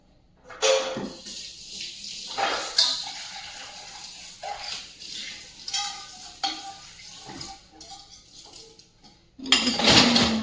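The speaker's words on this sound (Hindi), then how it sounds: "मैं थोड़ा थोड़ा सब यूटेंसिल्स को थोड़ा थोड़ा धो लेती हूँ" Kitchen utensils being rinsed under running water in an Indian home kitchen before going into a dishwasher: irregular splashes and gushes of water mixed with clattering steel dishes and spoons, close and fairly loud, with a heavier burst of water at the end.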